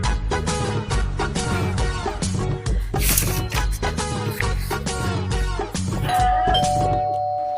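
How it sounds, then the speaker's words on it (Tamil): A chiming electronic doorbell melody rings out over busy background music, with a sustained tone near the end. "யார் இந்த நேரத்துல காலிங் பெல் அடிக்கிறது"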